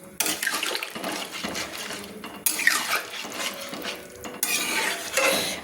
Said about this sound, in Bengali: আমি ভালো করে নেড়ে নিলাম